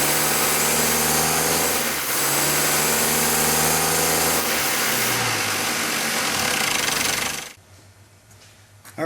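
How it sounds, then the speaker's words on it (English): Car engine revved under load while the brake is held torqued, a steady loud drone with shifting harmonics that drops away abruptly near the end, leaving a quieter idle. "we're going to jump in the vehicle and we're going to brake torque it, give it some, put some power behind it"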